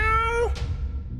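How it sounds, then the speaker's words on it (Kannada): A cat gives a single short meow whose pitch slides downward, close and clear, followed by a soft, quiet tail. "ಬೆಕ್ಕಿನ ಸ್ವರ ಅಂದ್ರೆ ಮಧುರವಾದ ಧ್ವನಿ"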